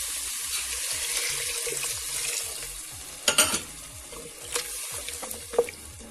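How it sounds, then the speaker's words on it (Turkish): Hot water is poured into a pan of okra and meat stew, making a steady rushing splash with sizzling underneath and a few clanks of utensils against the pot, close up, with no talking. "çevirdikten sonra sıcak suyumu ekliyorum"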